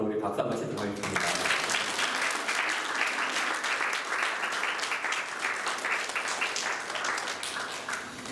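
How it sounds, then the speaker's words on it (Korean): Church congregation at a Sunday service and family retreat breaking into sustained applause after a brief voice at the start, the clapping dense and even throughout. "우리 박수 한번 치도록 하겠습니다"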